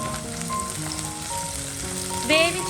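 Shallots, dried chillies and curry leaves fry in coconut oil for seasoning beef, giving a close, steady crackling sizzle that swells into a louder burst of spitting near the end, with no talking.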